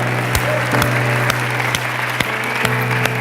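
A church congregation claps together in victory, a loud busy patter with sharp accented claps at a regular beat over a sustained musical tone, heard near.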